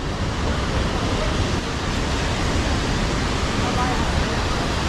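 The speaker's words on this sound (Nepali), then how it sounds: "देखिरहेछ नि रूपसे झरना" Rupse waterfall in Mustang, Nepal, roars as a dense, loud and unbroken rush of falling water, steady throughout with no breaks or distinct events.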